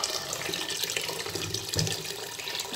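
Water poured onto washed bulgur in a kitchen, a steady close splashing stream from a tap filling the container, heard alone.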